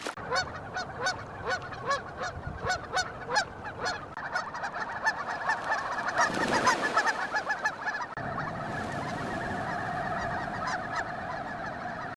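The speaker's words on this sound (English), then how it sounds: "What do you think of this Canada Goose?" Canada geese honk repeatedly in a rapid, loud series of nasal calls close by, later blending into a softer, continuous chorus of honking from a flock.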